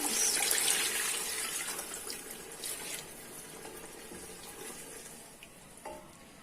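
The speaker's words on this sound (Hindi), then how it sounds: "ये मैंने अब इसमें पानी डाला है।" Water for beef yakhni pulao is poured into a pot of rice, a splashing rush that is strongest at the start and fades to a softer trickle.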